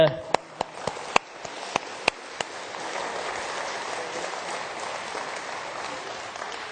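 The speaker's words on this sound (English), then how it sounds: "To the rest of the panel, a huge round of applause." At an international peace conference session, an audience applauds the panel with steady, full clapping that fills the room, with a few sharper nearby claps standing out at the start.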